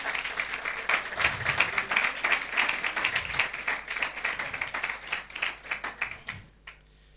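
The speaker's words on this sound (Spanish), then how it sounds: "¿Cuánto aplauden al Señor por eso, hermano?" A church congregation applauds during a Spanish-language sermon, a loud burst of many hands clapping with some individual claps standing out, fading away at the end.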